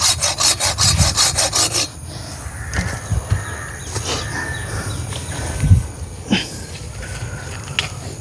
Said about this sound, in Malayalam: ഒന്നും കൂടെ താഴ്ത്തി വെട്ടിയിട്ട് ചെയ്യണം.